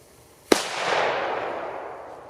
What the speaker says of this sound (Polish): Zobaczymy, co nam pokaże owa petardka, czy będzie strzelała głośno.